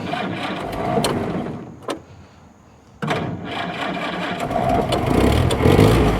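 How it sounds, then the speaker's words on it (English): A 1942 Ford GPW Jeep engine cranks and sputters, briefly catches, drops near silence, then turns over again and revs rough and uneven up to a louder idle. "we're going to give her a little throttle. Let's see if she'll turn over."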